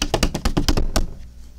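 Fingers tapping a hard surface to mimic fast keyboard typing, about eight quick, sharp, close clicks in an uneven burst that stops abruptly, leaving quiet.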